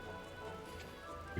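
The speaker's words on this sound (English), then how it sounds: "You hear the rain." Steady rainfall in the Final Fantasy XII video game, a continuous soft hiss that stays at an even level throughout, with no voices over it.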